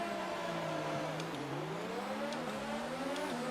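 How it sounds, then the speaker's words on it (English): F1 race car engine in a video game, Mexican Grand Prix, revs held high on the grid before the start: a steady, loud droning whine with slight pitch wobbles and a few small dips, continuous throughout. "Let's build up the revs and get ready for the start of the race."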